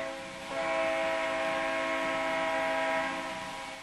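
A passing train rumbles steadily close by for several seconds, rising at the start and easing off toward the end with a sustained tonal whine over the rolling noise.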